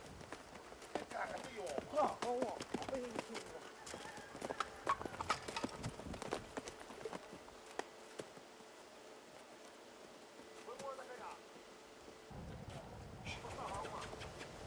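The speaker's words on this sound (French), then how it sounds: "Ané, le deuxième fils de Takihi, apprend à dresser son premier cheval sur les conseils de son frère" Rhythmic clip-clop of horse hooves at a moderate distance, with voices talking over parts of it and occasional bird calls in the background.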